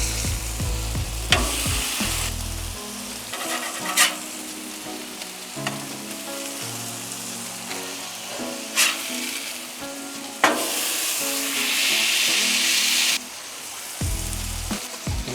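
Oklahoma smash burgers sizzle on a Blackstone griddle under a constant hiss, with intermittent clicks and spatula scrapes and a louder, sustained burst of frying toward the end.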